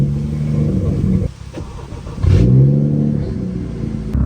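BMW M240i and M235i exhausts revving: a loud engine roar, a sharp drop, then a rising rev that swells and holds, close and clear with no talking.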